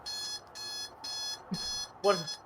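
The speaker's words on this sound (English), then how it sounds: "The Mii alarm is going off!" A Mii-themed alarm sound effect goes off, with four evenly spaced electronic beeping bursts at a moderate level, and a brief vocal sound near the end.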